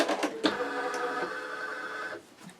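An embroidery machine fitted with a MagnaHoop 8x8 inch magnetic hoop stitches a design, giving a fast, steady mechanical whir with a few clicks near the start, close and alone.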